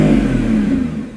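The V12 engine of a 2025 Lamborghini Revuelto revs up loudly nearby, a droning growl that holds and then begins to fall away.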